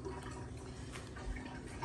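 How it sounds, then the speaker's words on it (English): Water runs steadily into a kitchen sink, a continuous close splashing wash with small drips, heard alone without talk. "The reason why you hear that water is because I need to stop up the sink"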